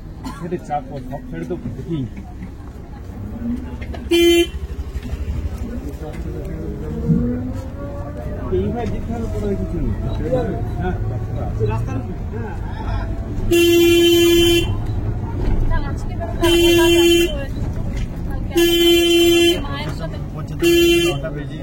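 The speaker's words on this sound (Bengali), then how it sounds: "আমরা এখন টুকটুক করে যাচ্ছি গোসাবা।" A tuk-tuk ride toward Gosaba in the Sundarbans, with a steady engine and road rumble throughout and several loud, sustained horn blasts near the end. People talk over the ride.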